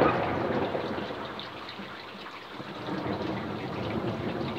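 Moderate thunderstorm over Montceau-les-Mines, Saône-et-Loire, in August: steady broadband rain hiss fills the scene with a low rumble of thunder underneath, loud and continuous with no voices.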